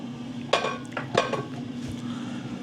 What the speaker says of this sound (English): I'm going to pop the lid back on